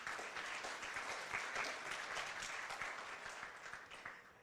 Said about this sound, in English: Let's give her and Taiwan a round of applause.